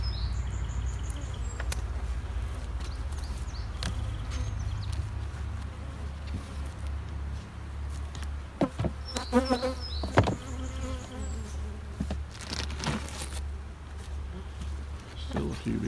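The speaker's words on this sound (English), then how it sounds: "Still a few bees." Honey bees buzz around a hive super during a honey harvest, a close continuous hum with scattered clicks and knocks from handling boxes, while people talk nearby.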